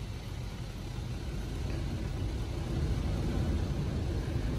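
Steady, loud mechanical rumble and whirring from an automatic car wash machine at Ocean Car & RV Wash in Airdrie, Alberta, a continuous low-heavy roar that swells slightly midway with no talking.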